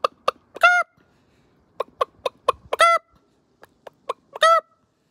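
Chickens cluck nearby in short, sharp bursts with a few longer drawn-out calls, scattered irregularly across a quiet background.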